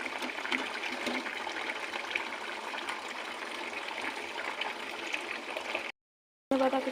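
A cauliflower and potato curry simmers in a pan as fish is added, giving a soft, steady bubbling and sizzling hiss that runs evenly before a brief cutoff, with no talk.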